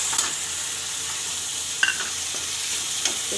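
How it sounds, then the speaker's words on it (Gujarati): Tomatoes fry with onions in a pan, giving a steady, fairly soft sizzle with a few faint stirring clicks and no voices. "હવે આપણે આ ટમેટા નાખી દેવું."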